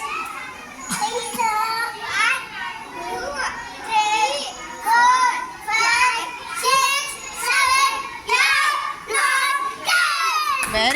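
A group of children in a classroom game shout and chatter in loud bursts, with rhythmic clapping mixed into the repeated waves of excited voices.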